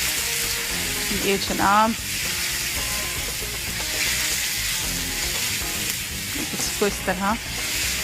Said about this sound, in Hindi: इसमें ये हमारे पास 300 ग्राम चिकन है जिसे हमने स्ट्रिप्स में काट लिया है और इसको हम इसके साथ हल्का सा फ्राई करेंगे।